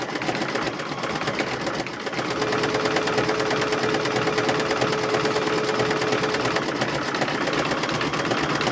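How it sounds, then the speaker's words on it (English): A sewing machine runs a zigzag stitch around the raw edge of a quilt square, a continuous close mechanical whir with a rapid needle rhythm throughout. "So now it's going to put a zigzag stitch around it, kind of sealing off those raw edges until it's done stitching."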